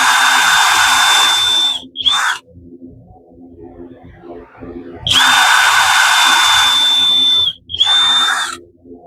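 A power drill bores holes into roof boards during a leaking-roof repair, with two long, loud, close whirring runs, each broken by short pauses and restarts.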